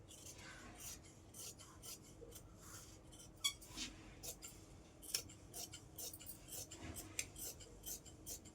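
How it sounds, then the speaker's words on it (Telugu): Scissors snipping through cloth during dressmaking cross-cutting, a quiet series of crisp irregular cuts and rustles of fabric, close but faint, with no talk over them. "ఇప్పుడు ఇది కట్ చేసేసుకుందాం."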